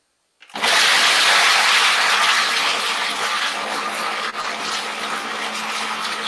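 A blender whisks frozen fruit with no oat milk added. It kicks in abruptly after a moment of silence, then holds a loud, steady whirring roar to the end.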